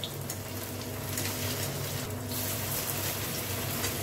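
A snack of chire (flattened rice) and semolina fries in oil, a dense, continuous bubbling crackle that stays close and loud the whole time.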